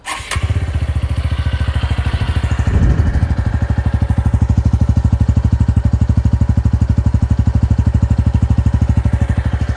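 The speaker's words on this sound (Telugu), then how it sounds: "ఒక్కసారి మనం బండిని స్టార్ట్ చేసి చూద్దాము." A TVS Radeon motorcycle starts with a quick crank, then settles into a steady, close, loud idle with an even, bass-heavy exhaust thump that continues throughout.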